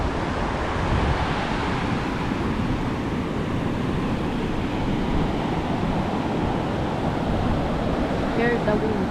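Ocean surf rolls steadily at Sabang Beach in Baler, Aurora, with strong wind buffeting the microphone in a loud, continuous wash of noise.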